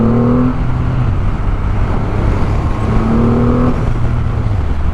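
A Triumph Rocket 3 Storm motorcycle pulls away with a loud, deep engine note that rises in pitch as it accelerates, then drops as the gear changes and climbs again, close and without speech.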